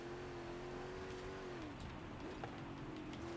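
Ford Bronco R rally build engine in Forza Horizon 5 revving through an upshift into fifth gear, a steady droning note that dips and then climbs again, fairly quiet, with no talk.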